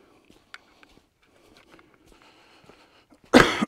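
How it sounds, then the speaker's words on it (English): A single sharp cough bursts right into a microphone at the end, loud and close, after quiet footsteps and faint outdoor rustling on a long dark walk. "I'm aware I just coughed right into the mic then."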